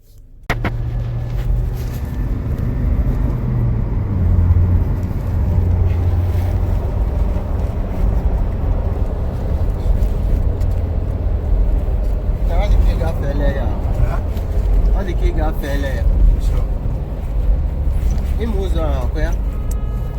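A car speeding along a straight, bumpy road toward the airport in Ghana, with steady loud road and engine rumble plus wind noise throughout, and some voices and faint background sounds layered in.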